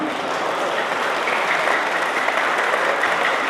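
An audience at a poetry recitation by Imran Pratapgarhi breaks into sustained, dense applause, steady clapping from a large crowd throughout.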